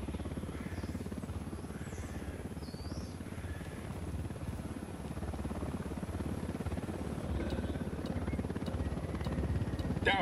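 A helicopter in Ghost Recon Wildlands flies overhead, its rotor producing a continuous rapid chopping thrum that holds loud and steady and swells slightly toward the end, with faint bird calls in the background.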